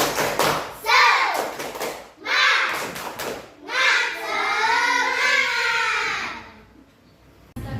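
Indonesian primary classroom children chanting the tepuk semangat, with short bursts of rhythmic group clapping under their voices and a teacher speaking.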